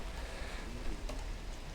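Heavy rain pours steadily outdoors in Turkey during a motorcycle trip, a dense, even hiss filling the air without pause, with no talk over it.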